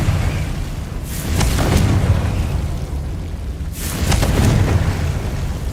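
Two heavy booming blasts from a Confringo fire spell in the video game Hogwarts Legacy, played on hard mode, each a broad burst with a rumbling tail, spaced about three seconds apart over a steady game soundscape.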